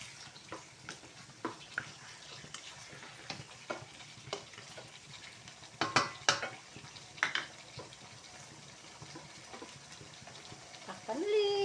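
A spoon stirs chicken kaldereta with tomatoes in a pan, giving soft scrapes and irregular clinks over a faint sizzle, quiet and close, with a voice talking now and then.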